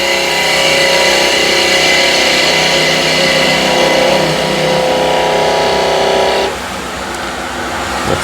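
A 10mm spindle gouge cuts into spinning wood on a lathe, hollowing a funnel inside a salt or pepper shaker. A loud, steady whirring hum holds for about six seconds, then the cut stops and a quieter running tone remains.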